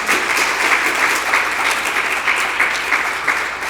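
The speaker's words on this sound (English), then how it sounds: "let's give them a huge round of applause" Graduation ceremony audience applauding parents and mentors, a loud, dense, continuous round of clapping from a large crowd, steady throughout and easing slightly at the end.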